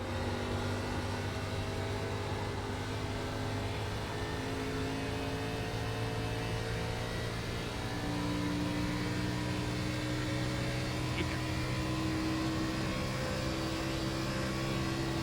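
A stock car engine in the iRacing sim at Pocono holds a steady, moderately quiet drone with layered harmonics that drift slightly in pitch over a long run, with no voices.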